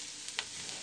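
Ingredients for solyanka frying in an Afghan kazan, a steady soft sizzle with a couple of brief stirring scrapes, close and quiet with no talk.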